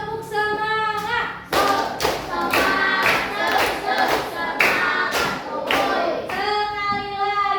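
A classroom of students performs a rhythmic spirit clap, loud bursts of group clapping in a patterned beat, with a teacher's voice heard before and after the claps.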